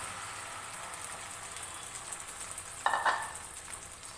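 Beaten egg mixture poured into a hot pan for a Kerala-style egg fry, a steady sizzle throughout that swells into a brief, louder hiss and bubbling burst near the end, with no talking.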